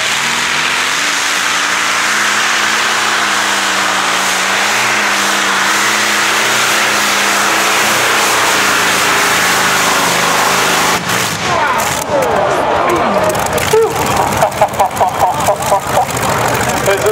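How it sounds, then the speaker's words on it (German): Tractor pulling engine roars loud and sustained at a motorsport pull, a radial aircraft-engine puller named Boomerang, with a steady heavy drone that turns rougher and more broken near the end, while a crowd and commentary sit underneath. "Das ist Traktorpulling, das ist der stärkste, schwerste und schönste Motorsport am Rädern."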